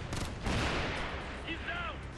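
Rapid bursts of automatic gunfire from a Warhound robot engaging hostiles in the video game Ghost Recon Future Soldier, dense sustained firing with sweeping electronic tones near the end.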